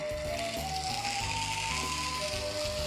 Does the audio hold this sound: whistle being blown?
no